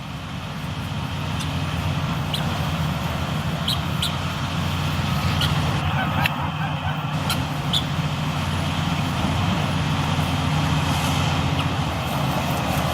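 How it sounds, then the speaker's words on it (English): An earth mover truck works on a farm during construction, its loud steady engine drone continuing throughout while small clanks and ticks of machinery come through now and then. "There's a truck just like this, or I should say an earth mover just like this"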